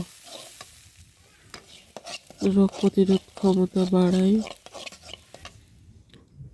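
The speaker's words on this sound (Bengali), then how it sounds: "অল্প পরিমাণ তেল দিয়ে দিয়েছি, এবার একটু নাড়াচাড়া করছি।" Green peas fry in a little oil and are stirred in a pan, giving a soft sizzle and scraping beneath a person speaking close by.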